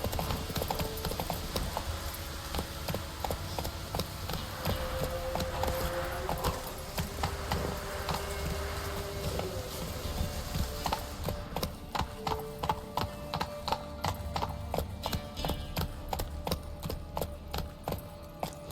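Horse hooves clip-clopping at a brisk, steady rhythm in The Witcher 3 video game, with occasional jangling tack and faint background game ambience.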